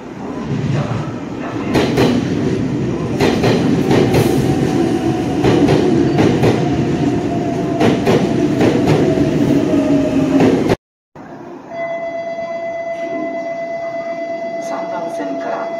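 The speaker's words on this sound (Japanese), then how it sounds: "三番線から電車が発車します" A Nagoya Municipal Subway Tsurumai Line train departs Kami-Otai Station, rumbling loudly with rhythmic clacking for about ten seconds, then after a brief gap a steady hum and tones continue, with announcement-like talk faintly over it.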